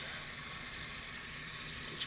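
Running water from a tap pours steadily onto a bath pouf as it is soaked, a constant close hiss of splashing with no talk over it.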